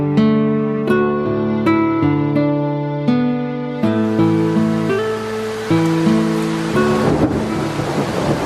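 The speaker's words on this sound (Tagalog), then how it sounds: "naabutan pa rin ako ng ulan" Rain pours steadily with rolling thunder, layered beneath a gentle melodic music bed whose sustained notes continue throughout and grow busier as the downpour thickens toward the end.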